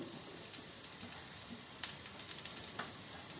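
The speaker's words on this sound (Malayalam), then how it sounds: "തേങ്ങ വറക്കുന്നു" Grated coconut roasting in a hot pan gives a faint, steady sizzling hiss with scattered light crackles, alone and fairly quiet throughout.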